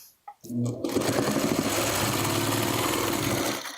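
A sewing machine stitches quilt blocks in a steady, close, rapid mechanical whir after a brief start, running continuously for several seconds with no talk.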